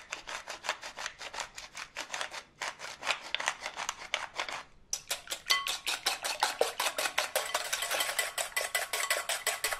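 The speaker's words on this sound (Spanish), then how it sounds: "Salpimentamos y batimos con mis super varillas." Six eggs seasoned with salt and pepper are beaten with a wire whisk in a bowl: rapid, steady, close clicking strokes in an even rhythm, with two brief pauses before the whisking resumes.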